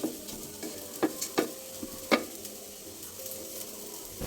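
Rice frying in oil with cinnamon and cardamom, a low steady sizzle broken by a few sharp scraping stirs of a spoon against the pan, close and alone.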